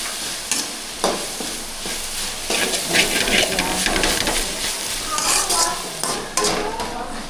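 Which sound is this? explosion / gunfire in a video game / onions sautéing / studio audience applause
onions sautéing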